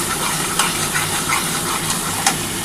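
Water splashes into spiced masala frying in a pan for a katla fish curry, giving a steady close hiss and gush of sizzling liquid with a few small crackles.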